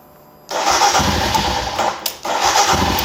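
An older Royal Enfield Himalayan 411 single-cylinder motorcycle cranks and fires at about half a second, then settles into a steady, loud, close idle with a brief dip partway through; no one talks.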